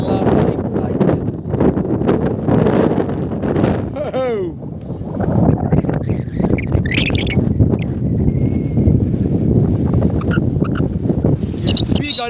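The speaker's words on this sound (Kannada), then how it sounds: "ಹೆವಿ ಗಾಳಿ ಗಾಯ್ಸ್ ಹೆವಿ ಗಾಳಿ" Heavy wind buffeting the microphone on a hilltop, a steady loud roar throughout with gusty surges, and voices talking over it.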